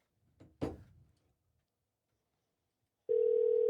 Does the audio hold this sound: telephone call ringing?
yes